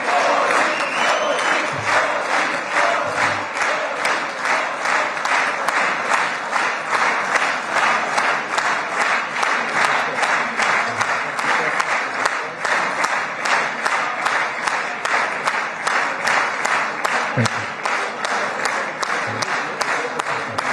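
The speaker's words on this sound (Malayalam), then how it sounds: "മോദി മോദി മോദി എന്ന് വിളിച്ചുകൊണ്ട് ആവേശഭരിതരായി കൈയടിച്ചാണ് അവർ സ്വീകരിച്ചത്" Israeli lawmakers in a parliamentary chamber clapping in rhythm and chanting Modi's name, a long, loud, evenly pulsed burst of unison applause that keeps a steady beat for about twenty seconds.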